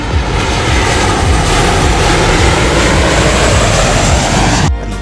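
Tejas fighter jet engine roaring at high thrust, a loud, steady broadband rumble that holds for about four and a half seconds before cutting off abruptly near the end.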